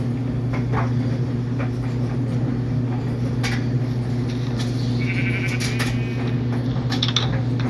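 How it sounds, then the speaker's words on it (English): A bleating sheep sounds in the video game Minecraft, with a short bleat near the middle over a steady background drone and scattered small clicks. No one talks. "Yes, I noticed the sheep"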